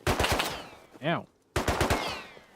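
Rapid automatic gunfire in the survival game Rust, loud close bursts of shots broken by a short gap with a brief vocal sound, then another sustained burst.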